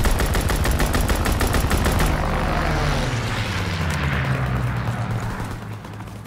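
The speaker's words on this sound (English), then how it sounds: "Fighter pilot inbound. Strafing the target." Fighter plane strafing run in the video game Call of Duty: WWII: about two seconds of loud, rapid, rattling machine-gun fire, then the aircraft roaring past and fading away.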